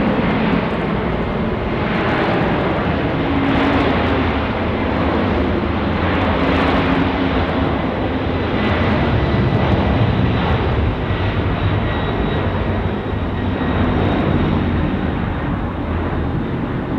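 An airliner takes off from Sydney Airport, a loud, continuous jet engine roar that holds steady throughout with a broad rumbling wash.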